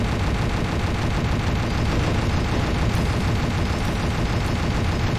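A gunship in Bang! Gunship Elite fires at a ghost with rapid, continuous weapon fire that stays loud and steady throughout, with no voices.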